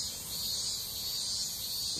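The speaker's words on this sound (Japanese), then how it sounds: "太郎さん、セミの鳴き声がイエス様の御言葉のように心に響きます" Cicadas drone in a steady, dense high-pitched buzz that holds without a break for the whole stretch, fairly loud and even, with no voices over it.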